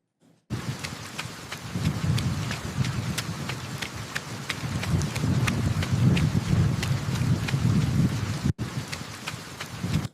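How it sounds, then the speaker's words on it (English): Rain falls steadily in an AI-generated night scene of a man running alone in shorts and a hoodie, with quick rhythmic footfalls and rustling clothing under a dense, loud patter that runs throughout. "I could hear the man running, I could hear the rain, I could hear the swish of the windbreakers"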